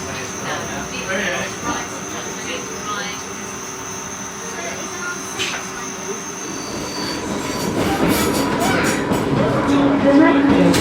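A Class 484 Island Line train running between Ryde and Shanklin, its steady rolling rumble and rail noise growing louder toward the end, with squealing wheels and faint voices in the background.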